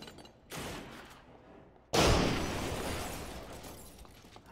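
Gunfire in the stealth shooter Splinter Cell Conviction: a short burst of shots, then a sudden louder volley that rings out and slowly decays, heard alone without talking.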